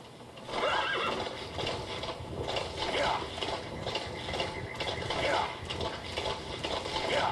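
Horse whinnies ring out several times over a steady rumble of galloping hooves and game ambience in Metal Gear Solid V, fairly loud and continuous.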